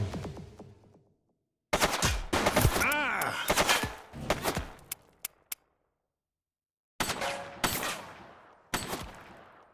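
Gunfire in the police game The Precinct comes in several sharp bursts of close, loud shots with bright ringing tails, separated by short silent gaps.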